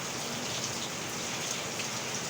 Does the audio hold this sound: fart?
no